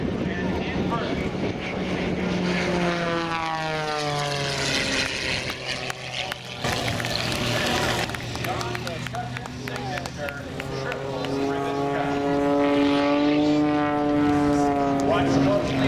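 A propeller aircraft flies aerobatic manoeuvres at the Oshkosh AirVenture airshow, its engine droning loudly with rising and falling pitch as it passes, while an announcer talks over it.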